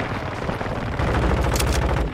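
Rapid, dense bursts of M16 rifle fire in the shooter game Modern Warfare 2, loud and close, with a sustained rattle of shots throughout and a louder stretch in the second half.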